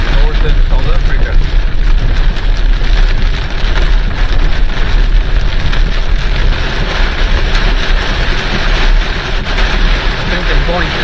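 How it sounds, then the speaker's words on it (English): Heavy rain pours down in northern South Africa during a solo overland 4x4 trip, a dense, loud, continuous roar with no letup from start to finish. "Rain in northern South Africa."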